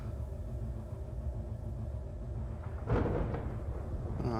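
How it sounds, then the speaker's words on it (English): Thunder rolls in the survival game Space Engineers as a deep, continuous low rumble that swells into a louder, sharper crack partway through before rumbling on, with no voices over it. "it's thundering"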